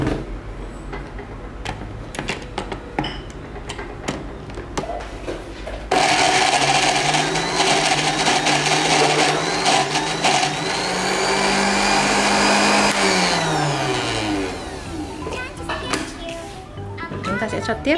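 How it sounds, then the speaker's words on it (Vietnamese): An electric blender grinds gac fruit pulp, starting abruptly partway through with a loud, steady whir that rises and falls in pitch as the load shifts; a speaking voice and some clatter precede it. "chuẩn bị xay nha các bạn"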